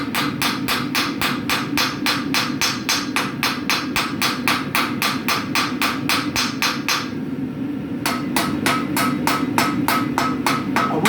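A power hammer pounds hot steel being forged in a fast, steady rhythm of sharp strikes, pausing briefly near the end before resuming, loud and close.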